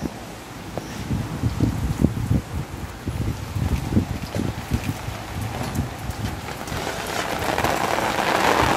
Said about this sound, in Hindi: वो बहुत तेज बारिश है।